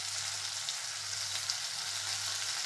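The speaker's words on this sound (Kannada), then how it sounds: "ಈ ಥರ ಇದನ್ನು ಎಣ್ಣೆ ಒಳಗೆ ಡೀಪ್ ಫ್ರೈನ ಮಾಡಬೇಕು" Rava-coated mackerel (bangude) deep frying in hot oil gives a steady, dense, close sizzle that holds even throughout with no voices.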